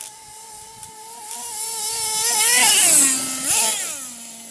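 A Hobao Hyper MT nitro RC truck on Opti-fuel screams at high revs, its whine climbing, then dropping sharply as the 2-speed gearbox shifts before rising again, alone and fairly close.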